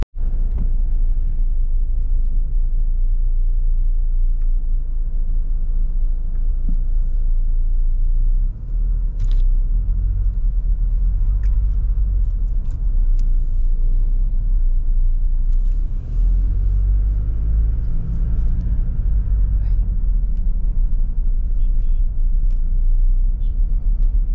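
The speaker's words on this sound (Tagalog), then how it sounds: "Traffic." Road traffic in the Philippines, heard from inside a vehicle: a constant heavy low rumble of engines and tires, steady and loud for the whole stretch, with occasional faint higher clicks and passing swells.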